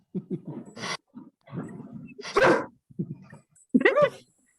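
A new puppy named Bridget, a young energetic female dog, gives a few short yips and barks close by, interspersed with whimpers and small vocal noises in quick irregular bursts.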